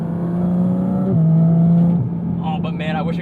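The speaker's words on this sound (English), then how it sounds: "I love the depth and the layers to the intake sound as you play with the exhaust and the gears" A Manthey Racing Porsche GT4 RS engine drones with a loud, steady intake and exhaust note that shifts pitch on a gear change, then eases off as a voice speaks over it.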